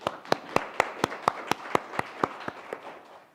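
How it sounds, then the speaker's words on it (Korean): Clapping follows a teenager's speech at a Korean youth speech contest: about a dozen crisp, evenly spaced claps in a quick steady rhythm, fairly close, that soften slightly toward the end, with no voices. "박수 한번 주세요."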